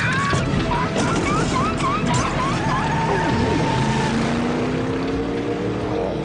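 A cartoon truck drives off with a busy engine roar under whistling and sliding effects, loud and continuous throughout, with other cartoon sound effects layered on top.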